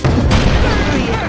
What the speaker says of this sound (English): Maybe that old cannon will work.